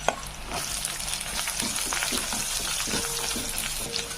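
Onions sauté in hot oil with curry leaves for an oily brinjal thokku, a continuous close sizzle and frying crackle broken by repeated scraping stirs of a spoon against the pan, with no talking.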